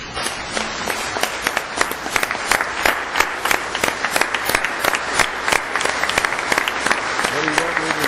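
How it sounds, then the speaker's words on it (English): An audience at a Citizen of the Year award ceremony gives sustained, loud applause with many hands clapping steadily throughout, and a few voices are briefly heard underneath. "I'd like all of us to give a nice round of applause and a standing ovation"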